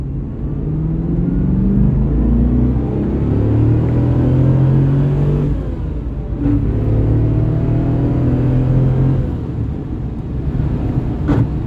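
A 1996 Chevrolet Corvette with an LT4 V8 drives while being shifted through its manual gears, a loud, close, continuous engine drone that rises and dips with each gear change.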